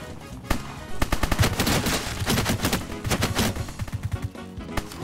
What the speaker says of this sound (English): This time we'll be using a different gun. A fully automatic assault rifle